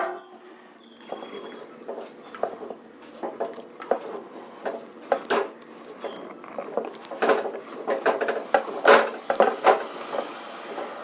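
Dough being rolled and pressed on a wooden board, an uneven run of soft knocks, scrapes and rhythmic taps close by, growing busier toward the end.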